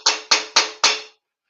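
Four sharp hammer knocks land close and loud in an even rhythm, each one ringing briefly before the next, with no talk over them.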